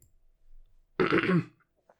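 A single rough, guttural throat clearing, close and loud, lasting about half a second after a moment of near silence.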